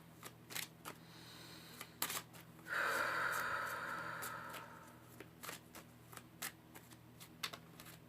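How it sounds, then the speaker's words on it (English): Playing cards are riffled and shuffled close up, with sharp snapping clicks and one longer rippling shuffle in a quiet room. "I stop shuffling the cards right here right now?"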